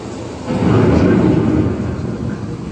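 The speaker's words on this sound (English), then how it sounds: "The approaching storm may seem violent and destructive to us" Thunderstorm effect on Epcot's Living with the Land boat ride: a deep, loud rolling rumble swells in, holds for about a second, then eases back to a low background roar.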